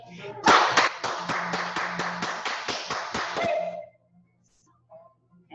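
A group claps hands loudly in a steady run of about a dozen sharp, evenly spaced claps during a children's music class, then stops abruptly, leaving near silence with faint sounds.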